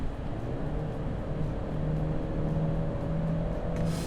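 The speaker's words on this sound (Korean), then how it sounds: "마이크로 이 엔진 소리가 전해지는지 모르겠습니다만 제법 괜찮은 소리가 들립니다." A Mercedes E-Class four-cylinder engine accelerates on a highway in comfort mode, a steady low drone rising gently under road and cabin noise, heard from inside the car at modest level.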